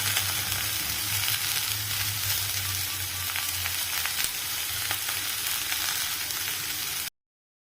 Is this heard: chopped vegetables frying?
yes